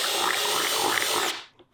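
A power drill whines loudly and steadily as it bores through a bucket, then winds down, with a short squeal near the end.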